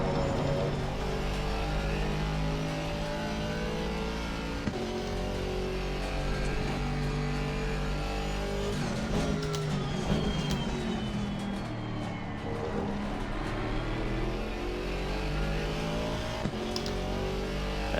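GT3 race car engines roar in Assetto Corsa Competizione during a multi-class race, a steady loud drone with rising and falling revs as cars accelerate and pass, continuous throughout.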